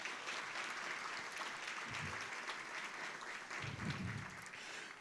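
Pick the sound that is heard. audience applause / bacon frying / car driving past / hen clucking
audience applause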